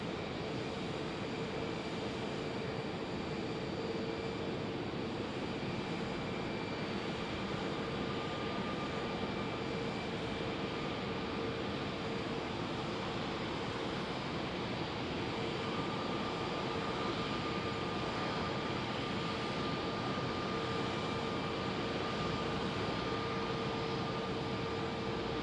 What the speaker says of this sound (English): CRJ 700 it looks like.